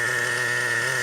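A gas-powered RC car engine idles steadily and evenly, close by, a continuous buzzing drone with no talk over it.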